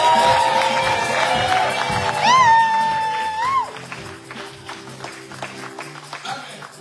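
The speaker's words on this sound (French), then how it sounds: "acclame encore le Seigneur ton Dieu" Church congregation shouting and cheering in acclamation of the Lord, a loud dense crowd roar with a sustained high whistle or ululation rising over it, then fading into ongoing chatter and applause-like clatter.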